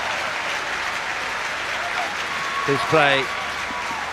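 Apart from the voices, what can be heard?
crowd cheering and applauding at rugby sevens match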